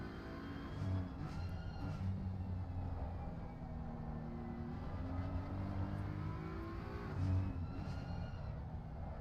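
A GT3 race car in a video game laps the Nürburgring Nordschleife flat out, its engine droning steadily at high revs with slight pitch shifts, heard fairly faint and continuous.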